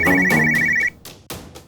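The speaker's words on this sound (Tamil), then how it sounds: "பாத்தியா, மணி அடிக்குது." An electronic telephone ringtone plays a bright repeating tonal pattern up close, then cuts off abruptly and gives way to a couple of soft knocks.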